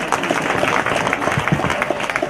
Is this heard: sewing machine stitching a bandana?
no